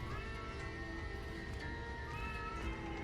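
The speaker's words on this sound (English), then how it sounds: "Wait, I hear a cat." A cat meows in the Astral Chain video game, a few soft drawn-out cries over a steady bed of game music and ambience, faint and somewhat distant.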